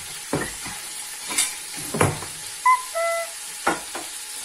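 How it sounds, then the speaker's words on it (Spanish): Bacon browning in hot oil in a home kitchen: a steady close sizzle runs throughout, broken by several sharp scraping stir strokes and a few brief high tonal chirps. "Bueno, pues el aceite ya está caliente. Lo primero voy a hacer el bacon. Lo doraremos un poquito"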